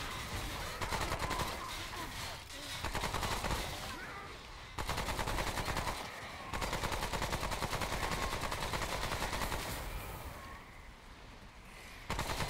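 Gunfire rattles in the video game Remnant: From The Ashes, with sustained bursts of rapid shots broken by brief pauses, dense and loud over a busy game soundscape.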